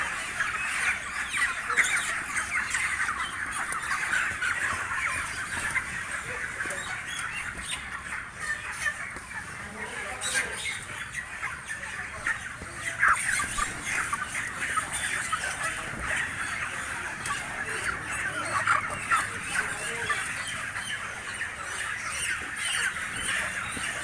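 Many chickens being unloaded from a truck cluck and squawk continuously, a dense, agitated flock chorus at close range with scattered louder shrieks throughout.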